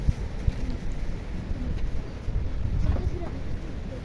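Strong wind gusting across an open goat farm during a storm, a rough continuous low rumble and buffeting against the microphone, with scattered faint knocks.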